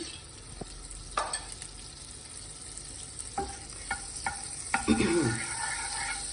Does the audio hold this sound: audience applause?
no